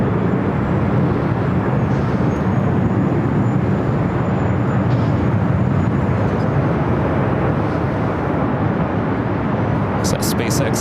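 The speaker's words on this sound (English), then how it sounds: "SpaceX 737-800 taking off 25 right" A SpaceX Boeing 737-800 takes off from runway 25 right at LAX, a loud sustained broadband jet roar holding steady throughout, with airport ambience around it.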